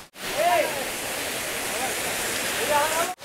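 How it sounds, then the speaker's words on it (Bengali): A waterfall beside the trail down via Jal Mandir on Parasnath Hill in Jharkhand gives a steady, even broadband rush from start to finish, with faint voices briefly rising over it. "নামার পথে এই ঝর্ণাটা পেয়ে যাবেন জল মন্দির হয়ে নামলে।"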